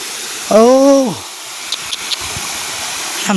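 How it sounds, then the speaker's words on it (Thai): A steady, even rush from a forest waterfall near a mountain monastery hisses softly in the background, briefly overlaid by a short tonal whistle-like call near the start. "ได้ยินเสียงน้ำตกตาทั้งนั้น"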